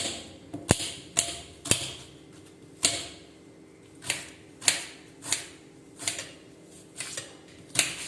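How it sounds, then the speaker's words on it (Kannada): A knife chops onion finely on a board for a homemade herbal kashaya, giving sharp, close taps in an irregular rhythm, roughly a dozen strikes, with no talk. "ಆಮೇಲೆ ಈರುಳ್ಳಿಯನ್ನು ಹೆಚ್ಚಿ ಹೆಚ್ಚಬೇಕು ಅಂದರೆ ಸಣ್ಣದಾಗಿ ಹೆಚ್ಚಬೇಕಾಯ್ತಾ"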